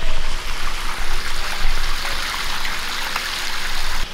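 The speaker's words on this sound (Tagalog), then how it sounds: "Dito pumapasok yung tubig, dito lumalabas yung tubig." Swimming pool pump forcing water out of a return jet strongly, a steady loud rushing and splashing flow close by, with no talk.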